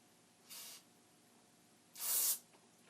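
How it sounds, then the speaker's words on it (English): Two short hissing bursts from an aerosol can of electronics contact cleaner sprayed into a Commodore PET computer, the second longer and louder, in a quiet room. "I have this contact cleaner for electronics, zero residue. I could spray it right in there"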